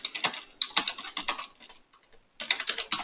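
Computer keyboard typing a name into a text box: rapid, close keystroke clicks in two bursts, separated by a short pause.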